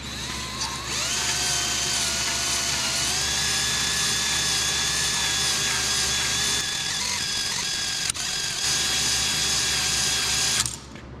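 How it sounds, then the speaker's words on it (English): A cylinder hone spun by a drill works inside an engine cylinder of a Kohler K Series engine from a Cub Cadet 102, giving a steady high-pitched whine that runs for about ten seconds and then cuts off. "we've got the hone here on a drill. So we'll put that in there and we'll just start working it back and forth."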